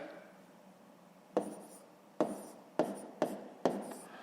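Handwritten numbers in a fifth-grade long-division exercise, heard as a faint scratch of pen on paper followed by five distinct taps or strokes, close and quiet, without talk.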